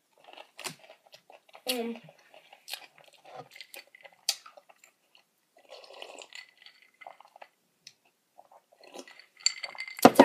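Freeze-dried astronaut ice cream in strawberry, vanilla and chocolate is chewed with soft, scattered crunches and mouth sounds, broken by a brief appreciative murmur and light clinks between bites.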